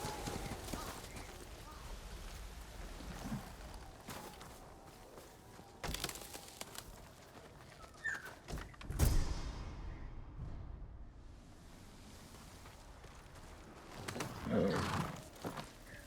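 In the video game Ghost of Tsushima, a horse's hooves clip-clop at a steady walk, mixed with game ambience and occasional louder thuds and rustles, with one brief burst of noise partway through.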